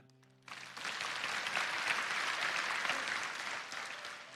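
Church congregation applause bursts in loud and dense after a brief quiet start, sustained steady clapping filling the space for several seconds before easing slightly.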